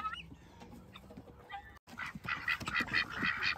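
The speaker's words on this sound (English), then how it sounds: "Duckies, chickies, and guinea hens. Here they are." Ducks, chickens and guinea hens on a farm make a lively chorus of quacks, clucks and shrill calls. It grows louder and busier after a brief pause, close by, with no talking.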